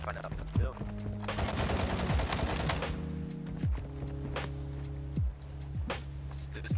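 AK rifle fire in the video game Call of Duty Warzone, with loud, dense automatic bursts and scattered single shots over a constant game soundscape, the bursts stopping and starting repeatedly.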